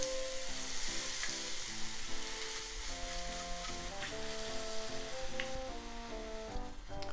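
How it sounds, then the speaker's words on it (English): Leftover tempura batter fries in hot oil to make tenkasu, giving a steady, close sizzle with crackling and bubbling throughout and a faint tonal hum running underneath. "To do that, you just kind of fry the batter like this, just as the batter."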